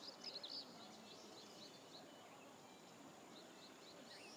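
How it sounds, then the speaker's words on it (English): Weaver birds call from a distance in a quiet KwaZulu-Natal landscape in South Africa, a few high chirps clustered early, then sparse faint twitters over soft ambient hiss. "There's weaver birds over there."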